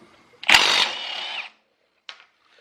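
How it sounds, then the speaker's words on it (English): A Milwaukee M12 Stubby 12-volt cordless impact wrench breaks loose trailer lug nuts in one loud, close, buzzing burst of about a second, then a brief short blip after a pause. "these little Milwaukee Stubbies are pretty powerful too. It's 12 volts and just breaking lug nuts"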